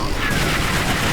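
A plasma rifle fires in the video game Brutal Doom, a dense, continuous stream of rapid energy shots lasting just over a second, loud and unbroken, with a voice faintly beneath.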